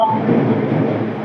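A train passes at Ranchi station, a short, continuous low rumble of rolling wagons, fairly loud and with no voices.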